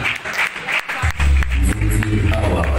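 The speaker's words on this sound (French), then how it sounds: "C'est Santa Tokoto Mbele sous vos applaudissements, mesdames et messieurs" Applause from the audience at the Nzonzing Award ceremony, its second edition, rises after a short pause and grows into a loud, full crowd clapping, with a voice heard over the start.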